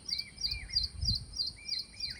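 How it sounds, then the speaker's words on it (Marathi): A tiny bird in a Konkan farm setting gives a loud, sharp, repeated high-pitched call in a quick steady rhythm, close by, over a low rumble of background noise. "हा पक्षी तर आपल्याला दिसणार पण नाही, एवढा बारीक असतो, पण त्याचा आवाज किती कडक आहे बघा"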